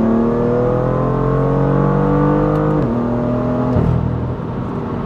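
A 400 hp BMW M2 engine and exhaust accelerate hard and loud up a dike road, with rising harmonic whine through two quick gear shifts, close by and continuous.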